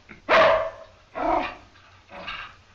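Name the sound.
dog barking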